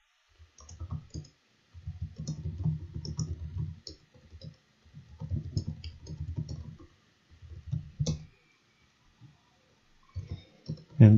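Typing on a computer keyboard comes in several bursts of close, crisp key clicks separated by short pauses, with no speech.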